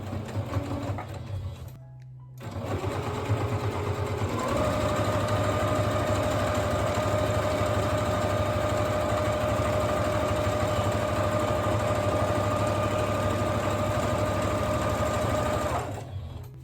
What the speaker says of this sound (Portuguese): Aumentei o meu ponto para um tamanho bem grandão e vou fazer, ó, costura reta.